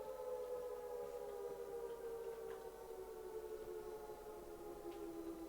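Civil defense siren wailing in the military video game Arma, a sustained tonal wail with stacked harmonics that slowly glides downward in pitch, heard fairly distant and alone over a faint background hiss.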